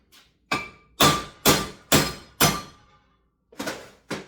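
A big hammer whacks a part out of a wheel hub, seven sharp metallic thunks in a loose, roughly even rhythm with a short pause before the last two, close and clear with no talking.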